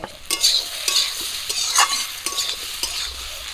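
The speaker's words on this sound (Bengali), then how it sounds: "করলাগুলো এই যে যেটা করে কাঁচা কাঁচা আছে একটু উল্টে উল্টে দিচ্ছি, দিয়ে ভাজা করে নিচ্ছি।" Bitter gourd slices fry in oil in a pan, a steady sizzle broken by repeated scraping strokes of a spatula as the pieces are stirred and turned; no one speaks.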